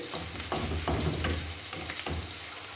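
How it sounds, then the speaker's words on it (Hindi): Chopped green onions sauté in a pan for spicy scrambled eggs, giving a steady close sizzle broken by several sharp scraping stirs of a spoon, with no talking. "ये हरी प्याज भी हमने शामिल कर ली और हरी प्याज के साथ हम इसमें थोड़ा सौते करके"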